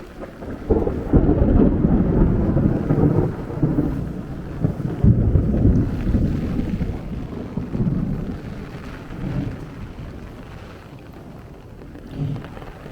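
Thunder from a cloud-to-ground lightning strike during heavy rain on a Brooklyn street near Coney Island rumbles long and deep, loud at first and then fading slowly, with wind buffeting the microphone.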